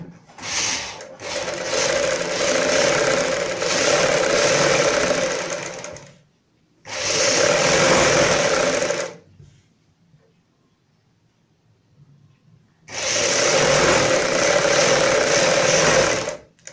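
A sewing machine stitching a kurti, running in three loud, even bursts of rapid needle chatter separated by near-silent pauses, close up.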